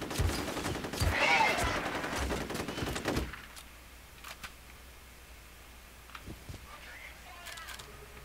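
Dense automatic gunfire from F.E.A.R. Extraction Point rattles loudly and close for about three seconds, then cuts off, leaving a quiet stretch with a few scattered distant shots.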